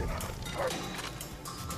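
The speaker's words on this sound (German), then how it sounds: "Boah, der Hund ist aber schnell." A dog barks in short, light yips, fairly close, in Far Cry 3, over a low background bed of game ambience with no talk.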